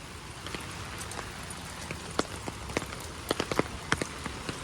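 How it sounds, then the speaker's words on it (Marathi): Steady soft rain on farm fields, hissing with scattered sharper drops tapping nearby on an umbrella, fairly quiet overall. "आमच्या इथला पाऊस पडला त्याच्यामुळे मी छत्री घेऊन आले"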